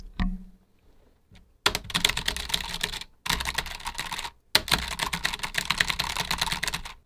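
Typing on a Logitech G915 TKL wireless mechanical keyboard, a few isolated key clicks, then three dense bursts of rapid close-up keystrokes separated by brief pauses.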